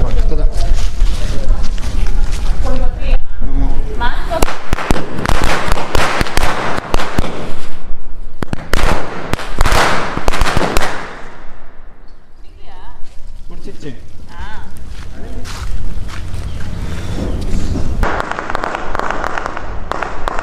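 Diwali firecrackers bursting close by in a string-style wala, sharp loud bangs crackling in rapid irregular bursts with pauses, while people talk over them.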